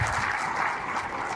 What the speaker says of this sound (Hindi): जोरदार ताली हर्ष के लिए होनी चाहिए एवरीबॉडी।